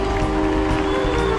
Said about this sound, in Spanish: Más fuerte el aplauso para Perú